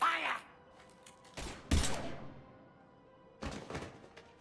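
Gunfire in the Mass Effect video game comes as a few sharp, separated bursts with heavy thuds, spaced apart amid quieter game ambience.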